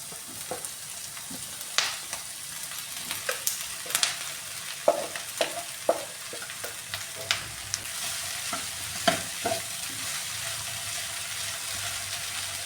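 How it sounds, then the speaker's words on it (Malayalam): Raw banana stir fry with cooked banana pieces added to the pan, giving a steady close sizzle and frying hiss with repeated sharp clacks of a spoon stirring against the pan. "ഏത്തയ്ക്ക വേവിച്ച് വെച്ച ഇതും കൂടി ഇട്ട് കൊടുക്കാമേ"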